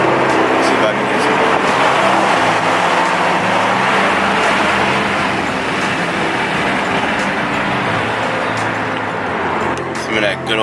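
A car not tuned for E85, running on E85 ethanol fuel, drives at speed with a loud, steady engine and road roar throughout, swelling slightly near the start and holding constant.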